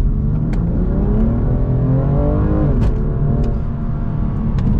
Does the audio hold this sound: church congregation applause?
no